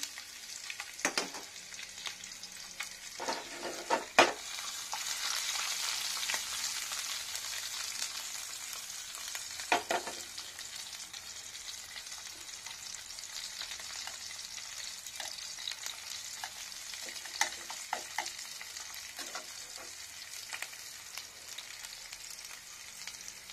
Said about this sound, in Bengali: সর্ষের তেল আর একটা গোটা জিরেটা দিলাম। এখানে দিয়ে নেবো পেঁয়াজ কুচানো